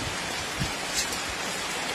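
Rain falls steadily outside a house, a dense even hiss of drops with a few louder patters, continuous and close, no voices.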